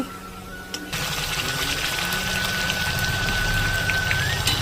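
Meat and onions deep-frying in hot oil for a village-style biryani, a steady loud sizzle and crackle running throughout after a brief quieter start.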